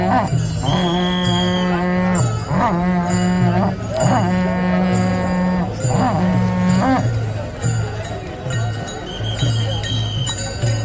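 Bulls low repeatedly in long drawn-out moos, loud and close, with a metallic clinking and a busy crowd murmur underneath, during the Pandharpur wari pilgrimage procession.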